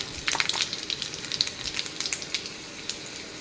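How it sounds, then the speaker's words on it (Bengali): Dried red chilli and whole spices hit hot oil in a wok, crackling and popping in a busy close sizzle that is loudest at first and thins out gradually, with no talk. "দিচ্ছি ফোড়ন"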